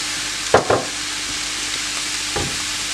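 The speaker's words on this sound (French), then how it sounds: "Et là je les fais revenir" Stuffing ingredients for stuffed squid sautéing in a pan: a continuous close hiss of frying with a few brief scraping stirs of a spoon against the pan.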